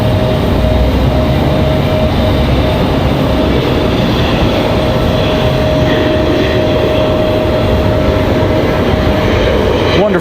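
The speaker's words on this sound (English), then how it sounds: "Got Delta coming in from Boston" A Delta airliner arriving from Boston at Raleigh-Durham airport gives a loud, steady, broad roar that holds throughout, with a faint voice underneath.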